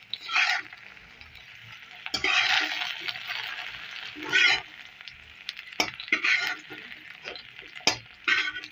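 Okra frying in ghee in a pan, with sizzling bursts that flare up and die down in irregular waves as the pieces are stirred, close and clear with occasional clinks of the utensil against the pan.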